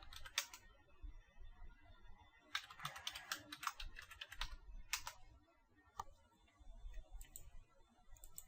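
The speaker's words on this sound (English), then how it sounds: "I'll just go ahead and enter the password ABC123" Keys clacking on a computer keyboard as a password is entered, quick irregular bursts of taps with short pauses, close and fairly quiet, no talking.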